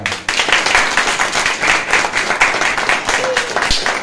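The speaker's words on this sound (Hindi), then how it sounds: "प्रेतलाल दाऊद की बड़ी खिदमत के लिए जोरदार तालियां बजाएं।" A church congregation at a Sunday service claps loudly in a rhythmic, pulsing pattern, with individual claps standing out in a close, lively burst of applause.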